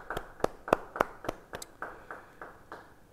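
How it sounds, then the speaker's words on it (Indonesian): Church congregation applauding during a Bible study: a sparse, fairly quiet patter of separate hand claps in an uneven rhythm that fades toward the end. "beri tepuk tangan bagi dia."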